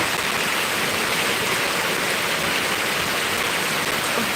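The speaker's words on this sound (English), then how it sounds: "I'm standing in the rain here" Steady, loud rain falling outdoors, a dense continuous hiss of drops with no other sounds and no talking.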